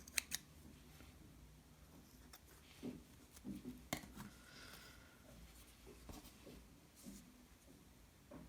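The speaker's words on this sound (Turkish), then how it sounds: "Bir miktar ip bırakıp kesiyorum" Scissors snip through amigurumi yarn close up in a quiet room, a few soft, crisp cuts over faint background hiss.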